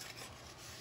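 Rough, steady rasping of a no-bake Oreo dessert mixture bound with butter being worked and mixed, a continuous scraping texture close up with no talk.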